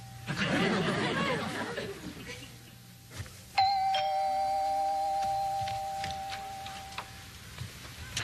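After some talking, a doorbell sounds a single clear chime that rings on and slowly fades, with faint background noise.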